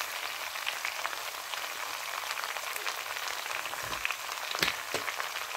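A pan of zharko with potatoes and fried meat gives a soft, steady sizzle, a faint rain-like crackle heard close with no voices.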